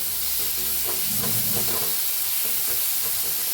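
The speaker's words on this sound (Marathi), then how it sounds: "आता ह्याला मी हलवून भाजून घेऊया" Chopped onion, green chili and garlic fry in a pan as they are stirred for katvada, a steady close sizzle and hiss broken by soft scraping clacks of the spoon.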